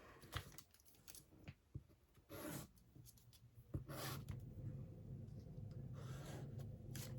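Scissors cut paper for a junk journal, with scattered snips, rustling and scraping at first, then a steady close rasp of a long cut, quiet and without talk.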